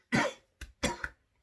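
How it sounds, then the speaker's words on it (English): Two or three sharp, close coughs in quick succession from a person recovering from COVID-19, the last a short double burst, with silence between them. "Still got a bit of a cough from it."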